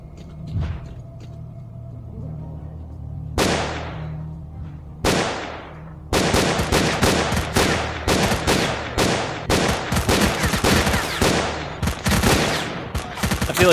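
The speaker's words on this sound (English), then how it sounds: "I do not like having to fire this many shots to hit one guy." Gunfire in the video game S.T.A.L.K.E.R.: Clear Sky: a few loud single shots with echoing tails, then a dense, steady stream of rapid close shots over a low rumble, with no voices.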